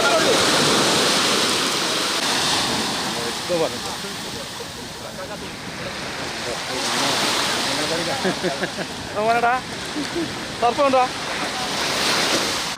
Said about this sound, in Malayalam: തിരയിടിച്ചിലിൽ ബോട്ടിന്റെ ഭാഗങ്ങൾ തകർന്നു കടലിലേക്ക് ഒഴുകിപ്പോയി